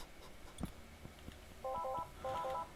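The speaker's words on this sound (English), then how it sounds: "Please ignore the phone ringing." A telephone rings faintly in the background as two short bursts of a warbling electronic trill, following scattered soft knocks and clicks, with no speech.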